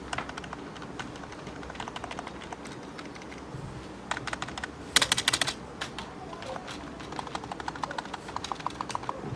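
Typing on a budget ANT Sports computer keyboard: a close, steady patter of quick keystrokes with a denser, louder burst midway, no voices.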